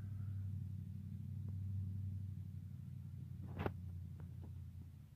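A low engine rumble of a truck rolls past at moderate distance, steady and droning, with a few faint clicks and a brief sharp knock.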